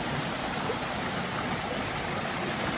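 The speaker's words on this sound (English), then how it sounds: "A huge waterfall." A large waterfall at Huntington Gardens roars steadily, a dense, unbroken rush of falling water that holds at the same level from start to finish.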